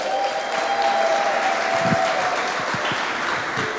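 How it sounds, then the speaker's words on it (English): Crowd applause for winners at a school presentation, steady clapping from many hands filling the room throughout, with no talk over it. "let's set the round of applause for our winners again"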